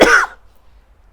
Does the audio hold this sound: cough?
yes